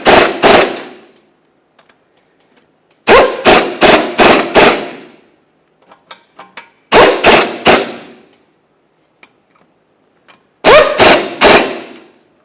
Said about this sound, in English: Once you have them all started in, snug them up.